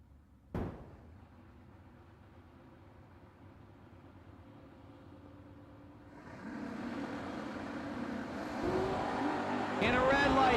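Two Oldsmobile Cutlass drag cars at a no-box drag race, a big old Cutlass and a G-body Cutlass, heard as a sharp bang, a low rumble, then engines swelling louder toward the end under an announcer's voice.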